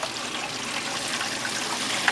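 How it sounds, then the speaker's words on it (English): Water runs steadily through a homemade, scratch-built one-man gold wash plant with a trommel, set on a low flow; a continuous broadband rush and splash, fairly close, with no talking. "So here we got some water running."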